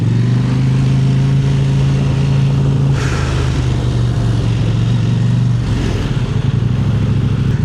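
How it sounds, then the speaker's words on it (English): A KTM 890 Adventure motorcycle with an aftermarket Akrapovič-style exhaust and its dB killer removed idles loud and close, with a deep steady throb and two sharp revs blipping up and falling back. "Aero exhaust, man, that thing sounds good. I took the DB killer out, so this thing is loud now"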